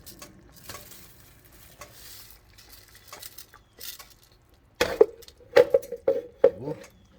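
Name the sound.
rice being added to boiling jambalaya pot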